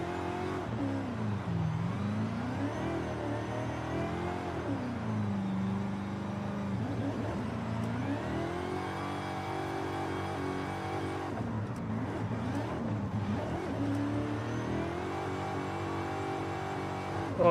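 A car engine in Forza Horizon 5 revs while drifting, with a continuous loud drone whose pitch rises and falls in repeated sweeps as the throttle is worked, and no voices.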